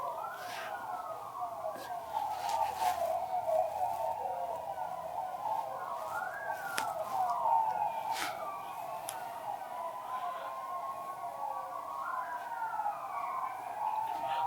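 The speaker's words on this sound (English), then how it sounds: "Why are there so many sirens?" Several police sirens wail, rising and falling continuously, overlapping at moderate distance, with occasional faint clicks in the background.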